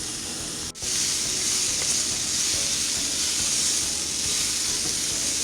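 Onions and garlic sizzling in a pan make a steady, even hiss at moderate volume, close by, interrupted only by one very short dip near the start.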